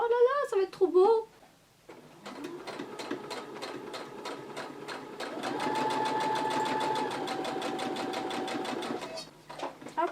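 A sewing machine runs steadily while stitching close along the edge of a hem on fabric cuffs, a rapid even whirr of needle strokes at close range after a short burst of talk and a brief pause.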